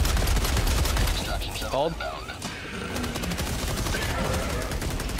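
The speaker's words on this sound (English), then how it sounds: "watch out for the turret! It's shooting at stuff" A Gatling sentry turret in Helldivers 2 fires rapid, dense bursts of gunfire that build into a steady, loud stream of shots. A voice is briefly heard early on.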